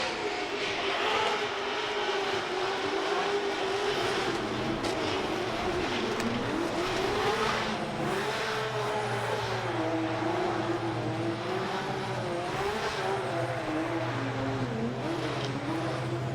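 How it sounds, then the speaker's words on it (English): Formula Drift cars at Long Beach do celebratory burnouts, engines roaring steadily with rising and falling revs and tyre noise layered over a loud, continuous crowd-and-track ambience. "Celebratory burnouts, are they?"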